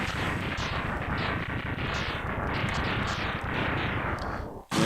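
Explosions from the video game Mega Man X3 boom and crackle in a dense, continuous barrage that runs for several seconds before cutting off abruptly, loud with no voices.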